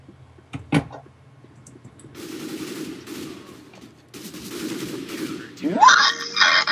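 Counter-Strike: Global Offensive gunfire crackles in two sustained bursts of rapid shots at moderate distance, preceded by a sharp single bang and followed by a rising mechanical whine.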